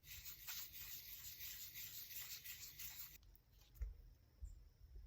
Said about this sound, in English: Let me get out this finer sand paper here, just to finish it up